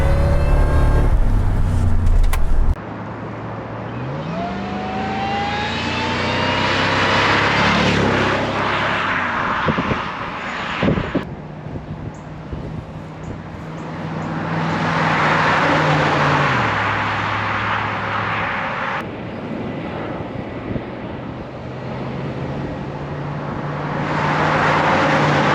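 A 2002 Ford Lightning pickup, stock with 39k miles, revs hard through the gears, its engine note climbing, dropping at each shift and climbing again, loud and close with no talking.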